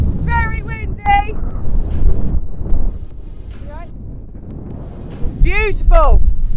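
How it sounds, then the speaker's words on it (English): Gusty wind on Cnicht mountain in Snowdonia, North Wales, roars and buffets the microphone while people shout and call out excitedly over it. "Very windy!"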